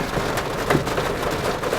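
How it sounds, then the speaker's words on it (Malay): Heavy rain drums around a car being driven through Kuala Lumpur, a loud, dense patter that stays close and constant throughout the short stretch. "Hujan lebat."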